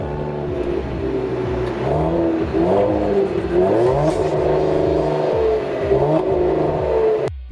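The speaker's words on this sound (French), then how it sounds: "ce V a un biturbo V6 avec un échappement sport" A Cadillac CT5-V with a twin-turbo V6 and sport exhaust revs loudly and close. Repeated rising and falling engine sweeps go on for several seconds without any talk.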